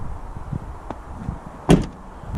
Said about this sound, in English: Just look how the door closes